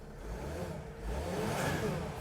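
A Freightliner Dodge Sprinter van engine runs at a steady idle after a crank-no-start repair, a low continuous hum that swells slightly partway through, heard close with no talking.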